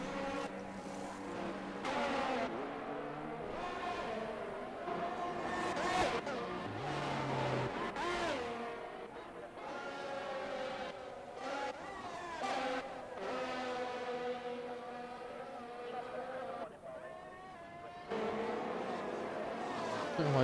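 Race cars in an F1 video game at Bahrain roar and whine continuously, engine pitches rising and falling as they pass, with a commentator talking over them throughout.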